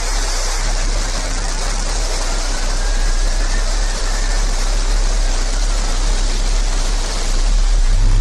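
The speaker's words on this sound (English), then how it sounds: "command engine start" The New Shepard rocket engine ignites and lifts off in a loud, continuous broadband roar, dense and steady like rushing water, with a deep low rumble underneath that holds for several seconds.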